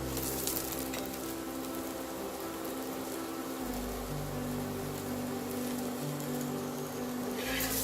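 Methi paratha, a fenugreek-leaf Indian flatbread, fries in brushed oil on a pan, giving off a steady, close sizzle that holds even and continuous throughout with no talk over it.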